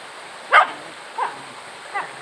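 A dog barks outdoors beside a stream on a fresh morning after rain, while fish traps are being set. Three short barks come at a distance, roughly evenly spaced, over faint steady background hiss.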